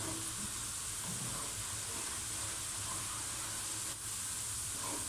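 Onions browning in oil for a dhaba-style chana dal, a constant close sizzle and hiss with faint stirring, no voices over it.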